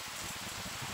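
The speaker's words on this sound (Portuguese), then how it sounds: "aqui agora tá chovendo" Steady rain falls on a backyard in a continuous dense hiss with scattered drop patter, fairly close and without voices.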